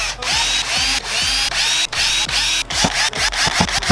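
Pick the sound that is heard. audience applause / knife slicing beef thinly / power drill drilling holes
power drill drilling holes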